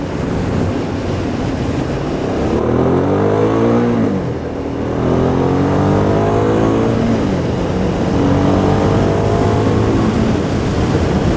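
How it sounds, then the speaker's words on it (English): A 2008 Hyosung GT650R sport motorcycle engine revs repeatedly, rising and falling in pitch through several throttle sweeps, loud and close, with steady wind rush over the microphone throughout. "Hope you can hear the sound of the engine."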